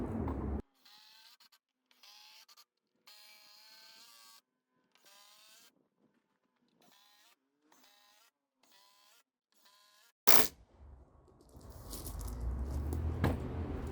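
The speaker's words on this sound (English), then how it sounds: "I'm just going to sink all these screws in now." Screws being driven into wood with a power drill while building a raised garden bed, a series of short whirring bursts separated by pauses, followed by louder clattering and rustling handling noise.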